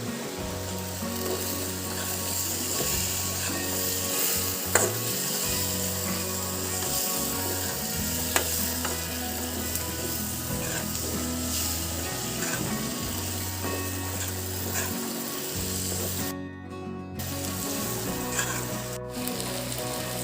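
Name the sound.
cooked prawns stirred and frying in masala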